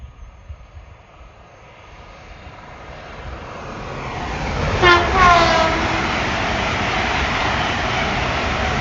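An LNER Azuma train approaches on the East Coast Main Line at York, its roar swelling from a distant rumble into a loud, close rush, with a falling tonal sweep as it passes.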